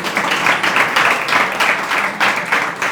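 A crowd claps together in a steady burst of applause, dense and fairly loud throughout.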